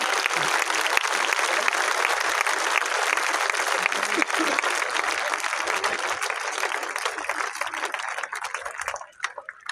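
Thunderous applause from a large crowd at a school gathering in Gwalior addressed by the prime minister, dense and loud clapping sustained for several seconds before thinning out near the end.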